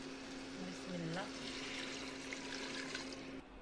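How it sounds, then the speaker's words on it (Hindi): Hot water poured into a cooking pan of frying bread pakode in oil, a steady hissing, bubbling gush that runs continuously for a few seconds before cutting off. "अब हम इसमें डालेंगे गर्म पानी"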